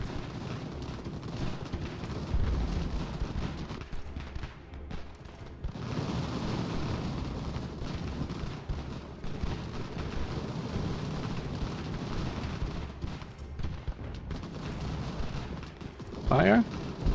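Cannon fire in the video game Ultimate General: American Revolution: rolling artillery booms and rumbling battle noise that continue throughout, loud and dense.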